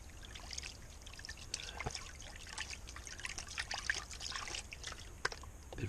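Fresh water trickles and dribbles off a gold pan during a cleanup at Kangaroo Creek, a light continuous pour with small splashes, fairly close and soft, no talk.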